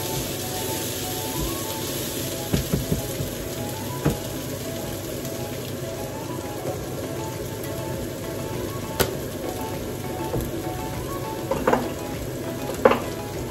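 Tomato puree sizzles in melted ghee in a pan, a dense steady crackle close by, with a few sharp clinks and scrapes of stirring scattered through.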